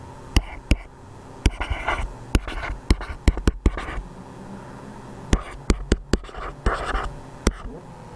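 A pen scratches across paper while math notation for complex numbers is handwritten, with quick strokes and taps in uneven bursts and short pauses, close and clear with no talking.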